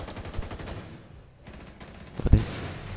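Gunfire in the video game Rainbow Six Siege: a short, loud burst of shots cracks out near the end after a stretch of low game ambience.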